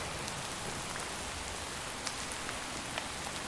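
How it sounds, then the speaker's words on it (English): Steady in-game rain in modded Minecraft hisses evenly and loudly, with a few sharper droplet ticks scattered through, and no talking. "And now it's raining."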